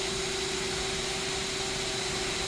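A 2012 Mazak Quick Turn Smart 300/1250 lathe moves its axes at rapid traverse, giving a steady loud mechanical whir with a constant tonal hum that holds unchanged throughout.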